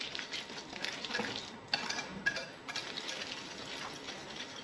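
Coconut cookie batter, eggless and milk-free, being beaten in a bowl: a continuous brisk scraping and slapping of a utensil against the bowl, close and steady, with a couple of sharper knocks.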